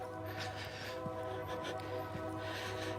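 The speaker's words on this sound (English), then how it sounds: "The lonesome whistle whining in the distance." A distant train whistle sounds as a steady, faint, layered horn tone under a low rumble of rail noise throughout, with no voices.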